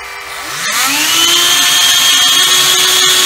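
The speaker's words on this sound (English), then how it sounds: "Turn the motor on. There she goes. Up the window." A window-climbing robot's motor starts up and whines, its pitch rising over the first second before it settles into a loud, steady electric drone that runs to the end.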